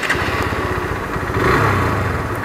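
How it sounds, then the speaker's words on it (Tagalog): A Hero Hunk 160R 4V naked sport motorcycle with a 163.2cc four-stroke, oil-cooled, four-valve engine revs up close, its steady idle-like throb swelling louder toward the end, with no voices present. "Tunog pa lang ng makina, may in love ka na sa kanya."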